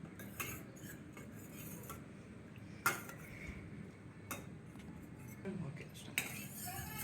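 A spoon scrapes and clinks in a bowl as chicken pieces are mixed into a marinade, soft irregular stirring with occasional sharper taps, close and quiet, mostly alone with faint background sounds.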